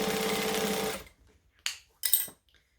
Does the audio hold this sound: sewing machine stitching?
yes